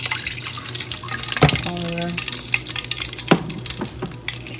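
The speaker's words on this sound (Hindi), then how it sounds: "अब इसके अंदर हम पानी डालेंगे" Water is poured into a hot pan of fried green cardamom, producing a loud sizzling rush with clattering stirs and a brief tonal ring. A voice speaks briefly over it.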